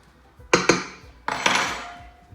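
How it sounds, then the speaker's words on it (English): A whisk stirs a pinch of sugar into flour in a bowl of bagel dough, giving two quick clinking taps and then a longer scraping, rattling stroke, close by with no talk. "we just need to whisk this in, okay, so just incorporate it all in the flour"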